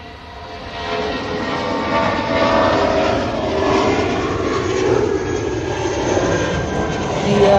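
A Eurowings airliner departs Manchester Airport bound for Düsseldorf, its jet engines giving a steady, loud broadband roar that swells and holds throughout, no voices heard.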